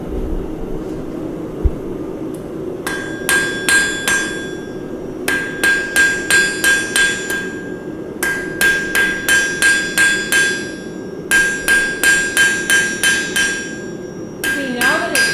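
A hammer forges thin, glowing-hot metal on an anvil in bursts of rapid ringing strikes, four or five quick metallic blows per group with short pauses, loud and close.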